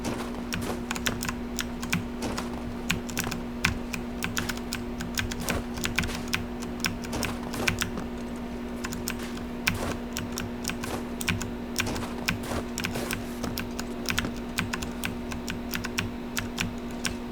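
Computer keyboard keys, mostly the WSAD movement keys, tapped in quick irregular bursts while playing The Long Dark survival game, close and clear over a steady electrical hum, with no talking.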